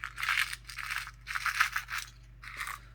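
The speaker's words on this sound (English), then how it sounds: "Guess sounds like this is screws." Screws and washers rattle and shuffle inside a package in three bursts of shaking, close and moderately loud, with brief pauses between.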